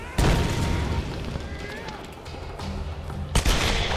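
Gunfire in the Tomb Raider video game: loud shots and booming impacts at the start and again near the end, with a quieter stretch between and a voice talking.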